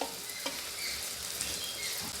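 Spices fry in a pan for a village-style mutton curry, making a soft continuous sizzle and crackle with a few light stirring clicks, heard close and alone.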